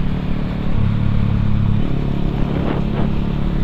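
Yamaha MT15 and KTM Duke 200 motorcycles rumbling in heavy traffic, a steady loud engine drone with light revving and clatter close by, no talk.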